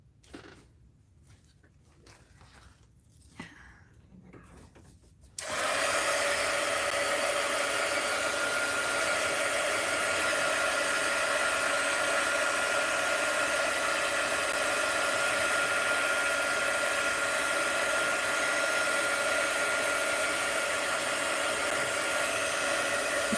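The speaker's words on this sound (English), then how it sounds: "My heat gun." A heat gun switches on and blows hot air in a loud, steady roar that runs without a break to the end, preceded by a few seconds of quiet handling noises.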